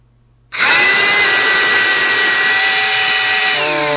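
After a moment of quiet, a battery-powered shop vacuum's motor whirs up abruptly and runs steadily with a harsh, high-pitched whine close by.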